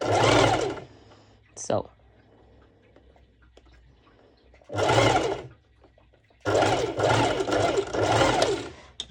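A sewing machine stitches a side seam on swimsuit bottoms with a V-band, running in loud close bursts separated by quiet gaps, with a voice speaking briefly.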